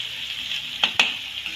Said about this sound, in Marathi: हे छानपैकी परतून घेऊया